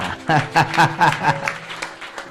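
A church congregation breaks into loud, close applause, quick rhythmic bursts of clapping mixed with cheering voices for about two seconds.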